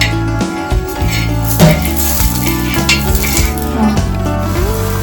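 Hot oil sizzling in a pan for a lunch preparation, a loud, continuous close frying hiss with occasional metallic clinks of utensils, and no one talking.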